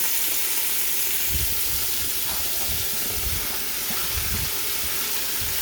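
Onions sizzling in a pot alongside boneless beef short ribs, a steady close broadband hiss with soft crackles running unbroken throughout.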